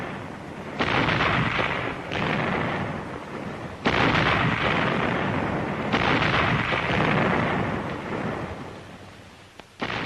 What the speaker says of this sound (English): A synchronized barrage, with the entire regiment backing up Glamour Gal as she blistered the paint off her tube